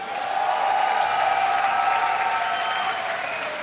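A festival audience at a metal show applauds a band, dense sustained clapping and crowd noise swelling in and holding steady for several seconds, with a faint tonal hum underneath.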